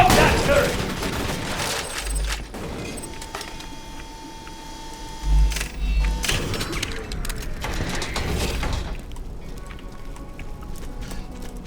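Turret gunfire in the video game Borderlands 2, rapid bursts of mechanical shooting with clanking weapon sounds, rising and falling in intensity, mixed with game voices.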